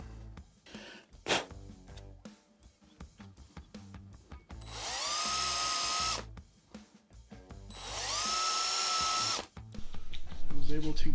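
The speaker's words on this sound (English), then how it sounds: "I was able to get this thing drilled out" Power drill boring tuner holes in an electric guitar part for a Telecaster-style build, two sustained whining bursts of a few seconds each with brief clatter and handling noise between.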